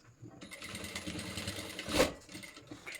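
A sewing machine stitches the cut pocket of a pair of formal trousers, a short run of fast mechanical whirring that swells to a louder burst midway and then trails off.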